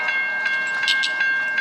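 Crossing-style bell on a Reading & Northern train rings in a steady, evenly spaced series of sharp metallic strikes, about four per second, over a constant background tone.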